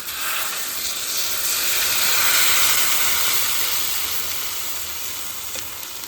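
Sugar and water boiling into syrup for mango pickle, about a kilo of sugar in the pot: a steady, fairly loud sizzling hiss and bubbling that swells slightly mid-way and then eases, with no talk.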